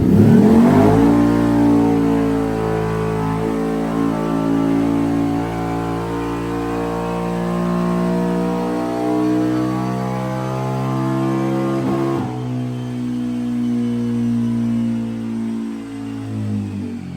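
CFMOTO 950 HOEX engine fitted with upgraded pistons, running on a dyno in a dyno room, revving up steadily and holding a loud, sustained mid-pitched drone before dropping off briefly and pulling again.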